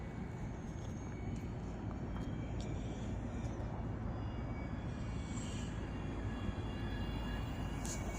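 Radio-controlled Cub model airplane flying slowly with flaps, its engine a steady, fairly faint drone mixed with wind noise outdoors throughout.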